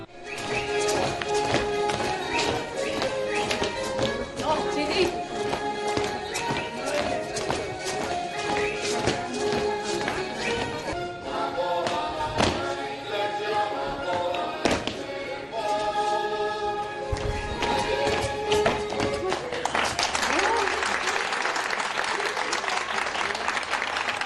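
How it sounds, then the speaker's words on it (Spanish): A troupe of girls performs a traditional Extremaduran dance to lively music with rhythmic footwork and taps, while fellow companions clap and applaud throughout, the clapping swelling near the end. "nos dedican este baile muy aplaudido por el resto de sus compañeras"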